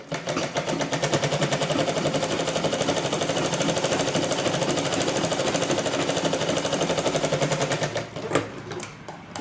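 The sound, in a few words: sewing machine stitching blouse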